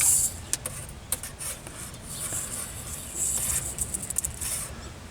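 A hand throttle cable is pulled through the shifter lever of a Jeep Wrangler YJ, producing close, scratchy rubbing and sliding scrapes in short uneven bursts, with small clicks between them.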